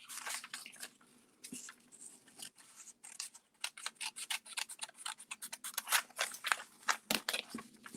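Scissors snip through paper to cut out a printing template for hand-printed tea towels, a quick series of crisp close cuts that speeds up into a busy rhythmic run of snips.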